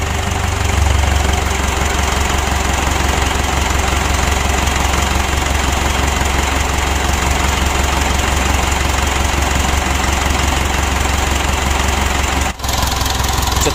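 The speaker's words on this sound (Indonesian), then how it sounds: "Kita panas dulu mesinnya." A Mitsubishi Pajero Sport Dakar, a 2012 model with a rough-sounding engine, idles steadily to warm up, its continuous loud low rumble and knock running throughout with no talk.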